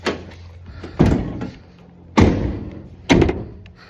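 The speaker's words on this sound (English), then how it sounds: "Unlock the doors." Doors of a 2020 Ford Transit van thudding and clunking as they unlock and open, three distinct heavy mechanical thunks spaced about a second apart, close by with no talk.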